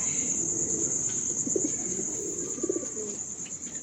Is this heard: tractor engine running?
no